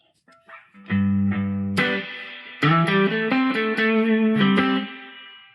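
Guitar notes played through a spring reverb pedal in an Oceans 11 unit, a few plucked notes and chords ringing out with a splashy, lingering tail, heard close and alone.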